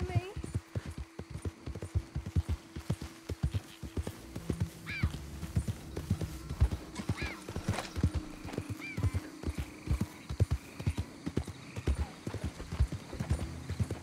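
A horse gallops in the Red Dead Redemption 2 video game: rapid rhythmic hoofbeats clatter steadily, broken by a few whinnies, with a voice talking over parts of it.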